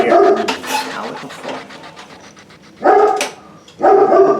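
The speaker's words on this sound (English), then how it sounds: "There's always somebody walking by. Dog's always gonna be fucking bitching at something." A dog barks hard at someone walking by outside, loud and close: a run of sharp barks at the start, then two more strong bursts after a pause.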